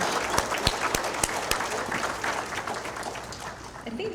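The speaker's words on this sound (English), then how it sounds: "Let's have another warm round of applause for Beth Ann Wells and Dr. Deborah Lynch." An audience at a centennial gala dinner gives a warm round of applause, dense steady clapping with a few sharp louder claps near the start, gradually thinning toward the end.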